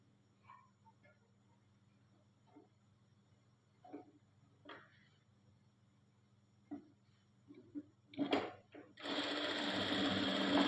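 Sewing machine stitching fabric pieces together, starting after a stretch of quiet with scattered soft clicks and brief bits of speech, then a loud, continuous rapid whir close by at the end.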